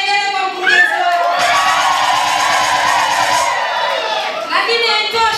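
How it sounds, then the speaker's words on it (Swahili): Women ululate in celebration for a municipal director at a gathering, a loud sustained trilling chorus with crowd cheering that swells and runs for a few seconds before voices return. "Piga vigelegele kwa mkurugenzi wako."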